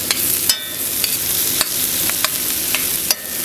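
Brussels sprouts with bacon grease and butter frying over a charcoal grill, a steady close sizzle broken by sharp scrapes and clicks as they are stirred and tossed.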